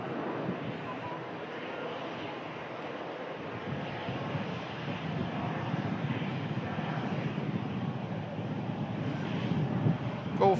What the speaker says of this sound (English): Boeing 787-9, Foxtrot Golf on the registration of this 5-year-old airframe.